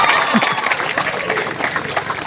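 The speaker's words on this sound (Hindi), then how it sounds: "जोरदार तालियां बजनी चाहिए" A crowd applauds a marathon prize winner at an outdoor monsoon marathon ceremony in Rangat, with steady, dense clapping and a voice over it.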